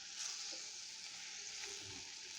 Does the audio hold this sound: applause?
no